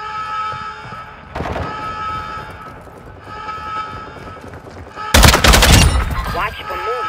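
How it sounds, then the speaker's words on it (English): Gunfire in Call of Duty Modern Warfare Warzone DMZ mode: a loud, close automatic burst breaks out over a dense game soundscape, with in-game radio voice chatter running underneath. "You are taking effective fire."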